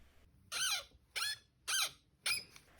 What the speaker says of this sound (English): the body I received squeaks when I move the arms around